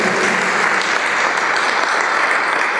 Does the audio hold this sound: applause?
yes